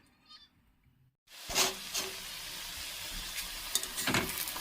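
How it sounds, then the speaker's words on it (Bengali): Besan fritters (bora) fry in a pan, a close, steady crackling sizzle that bursts in abruptly after a quiet opening with faint background sounds and continues loudly to the end. "একটু বেসন বড়া ভেজে নিচ্ছি"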